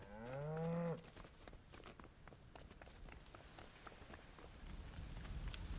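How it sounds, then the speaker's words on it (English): A cow in the LEGO Fortnite video game lets out one clear, close moo at the start, followed by a steady run of game footsteps and background noise. "Look at the cow."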